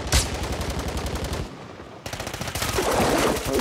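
Rapid automatic gunfire in Call of Duty, loud sustained bursts with a brief lull before the shooting resumes and builds again.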